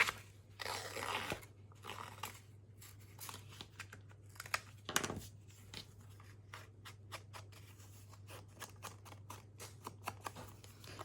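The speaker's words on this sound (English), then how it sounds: "I'm going to distress the edges, and I'm just using my Tim Holtz distress tool" Tim Holtz distress tool scraped along paper edges makes quick, faint, repeated scratchy rasps in short bursts, close up and quiet against a low steady hum.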